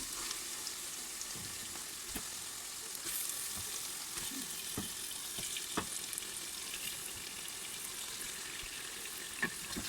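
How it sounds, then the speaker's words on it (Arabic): Chicken pieces hit hot oil with softened onion in a pan while cooking a Tunisian chicken dish, giving a steady, close sizzle with scattered crackles and pops throughout, with no voices. "تو باش نبدا نرمي قطع الدجاج نتاعي."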